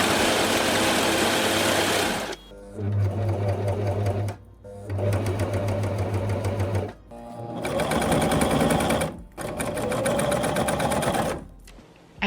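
A sewing machine hems stretch fabric for a summer top in loud, fast whirring runs, stopping and restarting several times with brief pauses between bursts, close up and with no talking.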